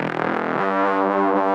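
A wavetable synth bass for deep drum and bass growls with distortion, flanger movement, dimension widening and Valhalla room reverb, a loud, buzzy sustained tone whose harmonics shift and settle into a steady, grinding drone.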